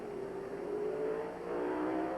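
A fire department ladder rig truck speeds down a 475-foot racing chute at a drill, its engine a steady, rising whine with no voices.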